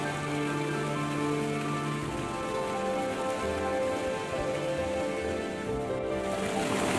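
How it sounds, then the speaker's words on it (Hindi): A steady, dense wash of rushing water fills the whole stretch, constant and broadband like falling water pouring continuously, with no voices. "उन्हें एक झरने की आवाज सुनाई देती है"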